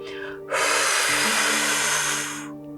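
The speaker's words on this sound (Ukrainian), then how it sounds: "ти робиш видих прямо в долоні" A long, forceful breath is exhaled straight into cupped palms during an energy breathing exercise, a single loud, close, breathy rush lasting about two seconds before fading.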